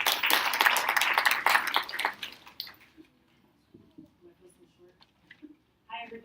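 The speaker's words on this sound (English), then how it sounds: "Give a round of applause." Crowd applause from parents in a school gathering for a 4th grade parent night, a dense burst of clapping for about two seconds that fades, followed by quiet room murmur and faint talking.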